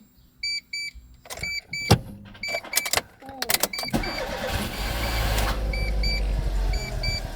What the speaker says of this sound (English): Do you want to turn the car on?